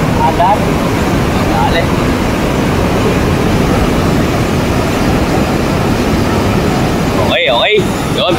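A loud, steady roar of a strong river current rushing under a bridge fills the whole clip, broadband and unbroken, churning close by.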